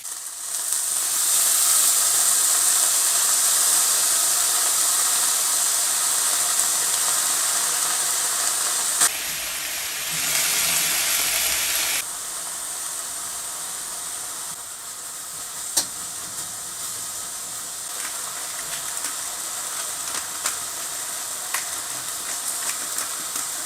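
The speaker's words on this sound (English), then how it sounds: "Adding some little water speeds things along because of the steam that is generated." Broccoli and carrots sizzle and hiss in a hot pan with a steady, loud steaming noise after water is added; a brief louder burst of hissing rises midway, then settles.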